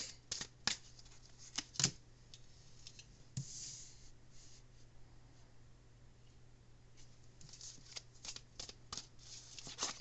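A tarot card deck is shuffled nearby, giving soft papery riffles and sharp clicking snaps in uneven bursts, fairly faint against a quiet room hum.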